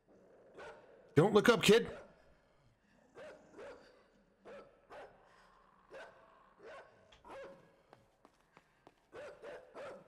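Dog barking in the video game Inside, a burst of loud, harsh barks near the start followed by repeated shorter barks and yips spaced through the scene, with a brief spoken line early on.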